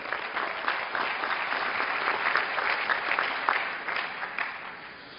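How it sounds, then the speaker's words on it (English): A crowd's round of applause at a sports and racism event honoring a speaker, sustained and moderately distant, with a few louder claps standing out. "So one more round of applause for the playmaker."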